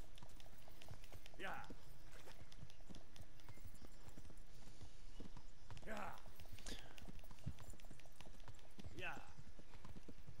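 Horse hooves clip-clop steadily while riding in Kingdom Come, a continuous rhythmic patter with occasional louder swooshing accents, heard beneath someone talking over the game sound.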